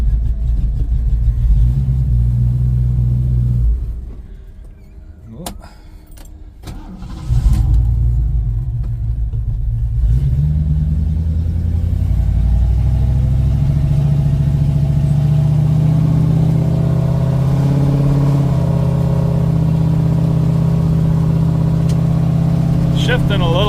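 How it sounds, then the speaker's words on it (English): A 1972 Ford Mustang Mach 1 with a loud new muffler rumbles along as it drives, a deep steady engine drone that briefly drops off, then returns and climbs as it accelerates and shifts. "Transmission seems to be shifting good. New muffler's pretty loud, but I guess that's why I bought it."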